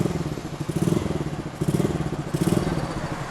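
A custom motorcycle from Kustomotion idles with its exhaust running, a close, loud, rapidly pulsing rumble that swells and eases a few times over a short stretch.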